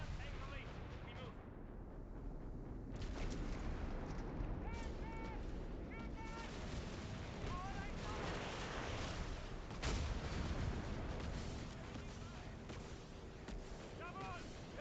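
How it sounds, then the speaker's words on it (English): Artillery strikes in the World War II strategy game Company of Heroes 3 thud and rumble steadily as a low, continuous barrage under shouted unit voices and battle noise, with one heavier blast near the ten-second mark. "Look how they're calling all these artillery strikes on me"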